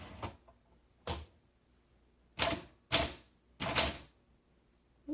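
Keys striking on a 1938 Corona 2C vintage typewriter: five separate sharp clacks spaced about a second apart, some with a small bell-like ring, close and clear with quiet pauses between.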